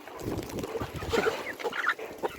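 Several chickens clucking close by in a scattered, irregular chorus of short calls at moderate volume.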